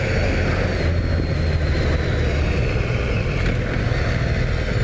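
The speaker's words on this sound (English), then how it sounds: "See the popping and cracking of the exhaust." A 2018 BMW S1000R motorcycle rides at speed, its engine and wind roar loud and constant up close, with faint exhaust crackle hard to pick out in the steady drone.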